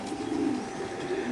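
Female Giribaj pigeons coo in a low, soft, rolling murmur, close by and continuous over a faint background hiss.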